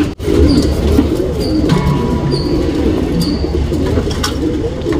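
Male copper-coloured Nagina tournament pigeon cooing in low, throaty, repeated rolls close by, with faint higher chirps from other birds and a steady background rumble.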